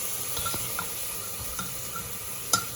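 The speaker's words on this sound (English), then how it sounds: "And I'm giving it a very good stir." Vegetables with turmeric and salt stirred in a pan, a soft, quiet sizzle beneath light clinks and scrapes of the spoon, a sharper tap near the end, no speech.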